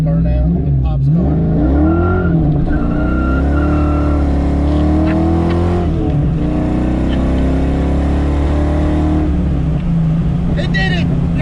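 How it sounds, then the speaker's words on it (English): A car's engine roars and revs loudly through a burnout, with strained tire squeal layered over the drone and excited talk throughout. "never actually attempted a burnout in Pop's car."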